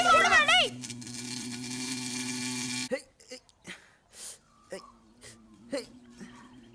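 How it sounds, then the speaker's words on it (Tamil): Honey bees swarm with a steady, close droning hum during a frantic outdoor chase, under excited shouting voices, then the buzz cuts off and breaks into scattered bursts between calls. "ஐயோ தேனீடா டேய் கடிக்க வருதுடா"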